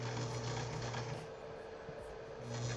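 A sewing machine stitching fabric runs as a continuous mechanical whir with a steady hum and faint rhythmic ticking, with no voices.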